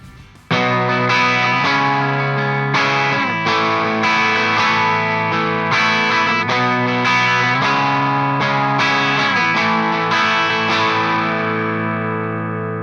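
Electric guitar through a clean amp channel plays a loud, ringing sequence of strummed chords and picked notes with a bright, shimmering tone, each attack decaying into the next, heard alone without speech.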